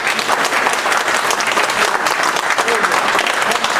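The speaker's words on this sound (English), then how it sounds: "let's give Robert a round of applause." Audience applause for a guest at a woodturning talk, a steady, dense clapping from a crowd that fills the room continuously, loud and close, with some scattered voices mixed in.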